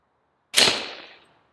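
A single handgun shot fired at an outdoor shooting range, one sharp loud crack after a moment of silence, trailing off in a short ringing decay.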